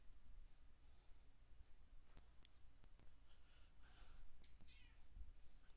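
A cat meows faintly a few times from a distance amid steady background noise, with sharp clicks scattered through.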